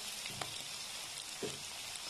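Garlic, onion and button mushrooms frying in butter in a pan, a faint steady sizzle with two soft stirring scrapes and no voices.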